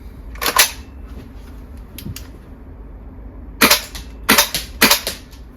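A VFC MP5 gas blowback airsoft gun fires in cold weather with sharp snapping reports, a few single shots followed by quick bursts of two or three, loud and close against near silence.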